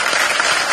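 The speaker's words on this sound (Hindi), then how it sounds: "मैं आप सबके लिए मैं चाहूंगा कि आप खुद अपने लिए जोरदार ताली बजाएं." A short burst of crowd applause at the Filmfare Awards, loud and dense from many hands at once, with no talking over it.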